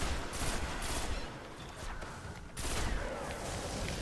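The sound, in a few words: gunfire in the video game Destiny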